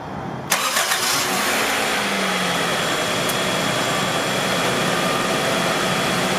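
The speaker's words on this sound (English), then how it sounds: "Once it's topped off with distilled water, go ahead and start your car." A 1997–2001 Honda CR-V engine starts with a sharp crank and catch, then settles into a steady loud idle that runs continuously without interruption.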